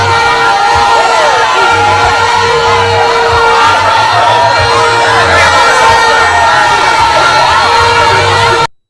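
A large crowd of party supporters cheers and shouts during a political walk, a loud continuous roar of voices with whoops and calls, close and unbroken before cutting off abruptly.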